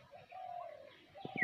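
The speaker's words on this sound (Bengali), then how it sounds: "কি সুন্দর পাখিদের ডাকছে" Pigeons coo softly outdoors under a cloudy sky, one drawn-out call followed by a quick run of low pulses, faint and somewhat distant.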